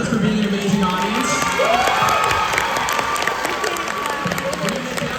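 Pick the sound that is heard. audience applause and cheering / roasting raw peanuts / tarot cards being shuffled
audience applause and cheering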